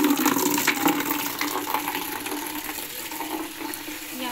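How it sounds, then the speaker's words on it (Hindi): Water from a bucket poured into the tank of a household evaporative air cooler on a hot day, a continuous splashing gush at moderate level with no talking. "कूलर में पानी डालना पड़ेगा"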